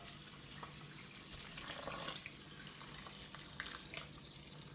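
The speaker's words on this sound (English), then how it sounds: "So just cold water from the tap." Cold water running from a tap into a bucket, a steady broadband rush of filling water with faint splashes, continuous and close with no talk.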